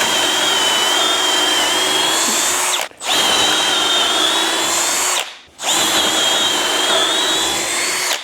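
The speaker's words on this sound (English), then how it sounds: "So to test the drilling feature out, I got these 1/4 inch drill bits we're gonna put in." A Milwaukee power drill with a 1/4 inch bit whines steadily in three long runs into wood, each cut by a brief pause as the trigger is released.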